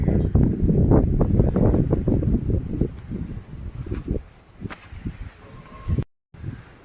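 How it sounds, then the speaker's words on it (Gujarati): Strong gusts of wind rush and rustle through trees on a farm during a coriander harvest, loud at first and then easing, with wind buffeting the microphone. "જોતા અત્યારે પવન પવન પવન પવન ને ઝાડવા તો જો બધા હલે"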